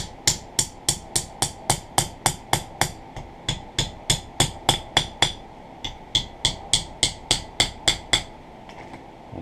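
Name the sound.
hammer tapping knife handle pins down on an anvil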